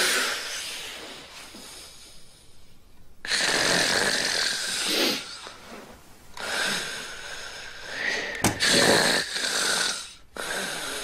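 A person snores loudly in rasping, wheezy bursts, several long noisy breaths separated by quieter pauses, heard close and alone without talking.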